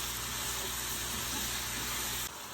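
Chicken pieces frying in a little oil for chop suey, giving a loud, steady, close hiss and sizzle that drops off sharply near the end.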